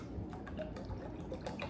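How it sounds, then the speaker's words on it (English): Water glugs and drips as it is dumped out of a plastic bottle during a simple science demonstration, a soft, close, irregular liquid splashing with small gurgling bursts, heard alone. "You are actually going to dump all of the water out."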